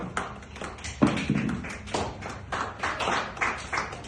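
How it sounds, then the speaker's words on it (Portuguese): Church congregation clapping hands in praise to the Lord, uneven rhythmic claps and taps at close range, quiet and loosely spaced in short bursts. "quem está inteiramente consagrada, bata salvas de palmas pela glória do Senhor"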